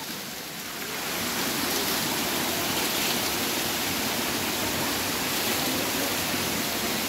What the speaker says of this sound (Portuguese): Aqui então é a famosa aquela cascata subterrânea?